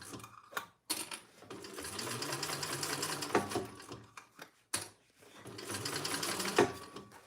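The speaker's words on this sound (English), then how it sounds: "I think Lauren is going to be sewing in her new studio today." A sewing machine running in a home sewing studio, whirring in two long, steady stitching bursts separated by brief pauses, close and fairly quiet.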